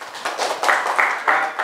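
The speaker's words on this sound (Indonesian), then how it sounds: "Oke, kalau begitu tepuk tangan dulu buat temannya." Schoolchildren in an Indonesian classroom clap for a classmate, a short burst of uneven, bright handclaps from a nearby group that swells in a few quick waves and then fades.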